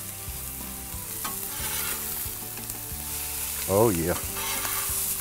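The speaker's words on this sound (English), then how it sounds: "All right, it's time to flip these fish." Cajun catfish fillets sizzle steadily on a hot Blackstone flat-top griddle, with a brief scrape-and-flip burst near the end and a short spoken remark over the frying.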